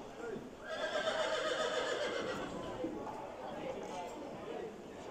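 Horses at an auction of horses, mules and donkeys, with a shrill whinny rising over crowd chatter and people talking nearby, plus faint hoof clatter in a busy outdoor setting.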